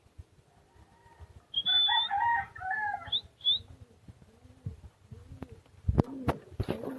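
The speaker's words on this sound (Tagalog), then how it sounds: "mayroon pa tayo isang ibon sa labas" A bird calls outdoors in a few bright, chirping bursts, followed by clucking fowl sounds and some scattered knocks and bumps nearby.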